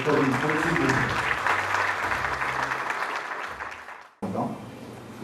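Applause from a gala audience in Montréal fills the room as a steady, dense wash of clapping that runs for about four seconds, cuts out abruptly, then resumes.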